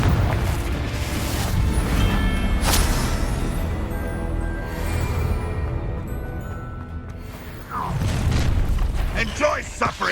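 A Confringo spell explodes in the Hogwarts Legacy video game, a deep booming blast among layered magical effects and game sounds. A second burst swells near the end.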